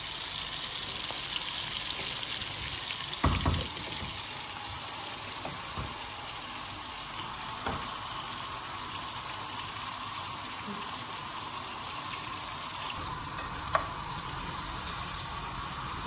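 Stuffed tinda (round gourd) fries in a pan with a steady, moderate sizzle and a few soft clicks of the spatula against the pan, with no voices.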